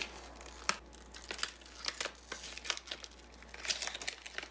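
Cut regular adhesive vinyl for a monogram is peeled away during weeding, giving soft, close crinkling and tearing rustles in irregular bursts, quiet and with no talk.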